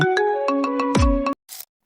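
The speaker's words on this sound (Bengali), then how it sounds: "নিজের নামে রিংটোন বানিয়ে আপনি আপনার বন্ধুদেরকে চমকে দিতে পারেন" A custom phone ringtone made to announce its owner's name plays a short, bright electronic melody of several quick chiming notes, loud and close, then cuts off abruptly, followed by a brief faint hiss.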